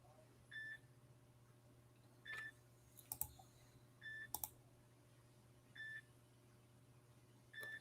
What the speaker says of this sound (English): Somebody's alarms are going off.